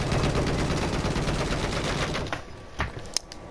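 An anti-infantry vehicle gun in Battlefield 4 fires a dense, continuous stream of rapid rounds, then breaks off into a few sharp, isolated shots.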